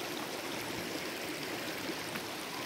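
Busay Falls, a waterfall in Barangay Cabugo, pours and rushes in a steady, close, full wash of flowing water with no voices.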